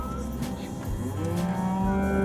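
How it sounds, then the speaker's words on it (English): Cows standing in a road moo loudly and close by, low drawn-out calls overlapping one another, with a steady rumble of a car idling underneath. "There are cows in the road."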